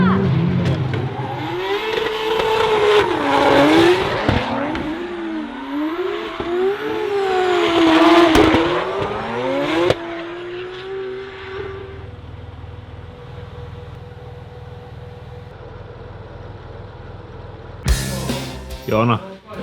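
A Mercedes AMG GT drift car revs and drives loudly with rising and falling engine notes and bursts of acceleration, then drops to a quieter idle-like hum before a short final burst; people talk over parts of it.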